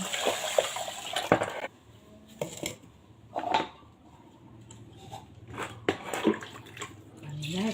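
Water is poured in a kitchen setting in several splashy bursts, with clattering dishes and someone speaking between the pours.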